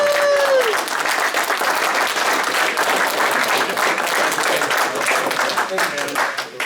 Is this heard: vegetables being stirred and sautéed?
no